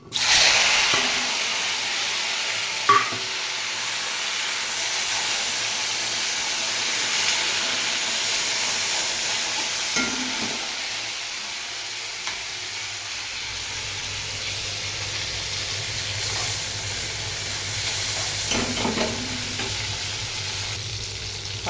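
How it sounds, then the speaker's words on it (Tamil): Tomatoes sautéing in a pan for vatha kuzhambu give off a steady sizzling hiss throughout, with occasional faint stirring scrapes and light knocks, close and alone. "இப்போ தக்காளியை போட்டு வதக்கணும்"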